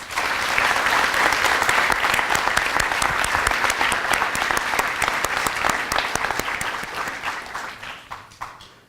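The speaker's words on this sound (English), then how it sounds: "Let's give them a round of applause." Loud sustained applause from the audience at an EMS academy graduation ceremony, dense rapid clapping close and full for most of the stretch before thinning and fading out near the end.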